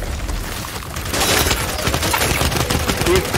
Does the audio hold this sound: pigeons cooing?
no